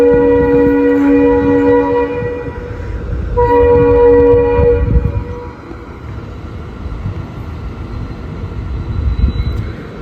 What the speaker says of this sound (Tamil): கிட்டத்தட்ட இது 6வது ட்ரெயின்.